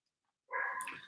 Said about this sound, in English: Our Mr. Little Boy is barking on us.